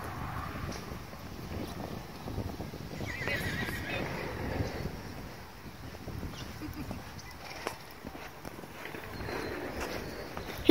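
Outdoors at a barn, a horse canters with faint, soft hoofbeats and gives a whinny. Wind noise and distant, quiet voices run underneath.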